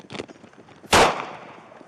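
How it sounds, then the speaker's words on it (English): A police officer fires a single gunshot at a man armed with knives on a street, one loud, sharp report that rings out over shouting voices before and after. "shots fired"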